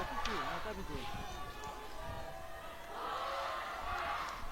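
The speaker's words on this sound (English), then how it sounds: "The voices are turning louder and louder in support of the home team." Spectators cheer and shout in support of the home team at an under-20 women's football qualifier between Bhutan and Nepal, a distant crowd roar that swells and dips beneath steady commentary.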